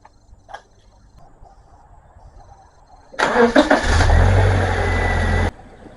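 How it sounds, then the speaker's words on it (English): A Subaru car engine cranks and catches, then settles into a loud, steady running roar for a couple of seconds before cutting back, with quiet background beforehand and no talking. "Now I'm going to start the car"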